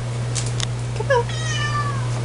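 A kitten gives a few short, high meows indoors, fairly close and soft, over a steady low electrical hum with no talking.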